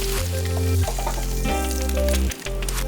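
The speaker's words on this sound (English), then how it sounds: "a little knob of butter goes straight into the pan." Butter sizzling loudly in a hot frying pan, a steady crackling hiss with a low background hum throughout.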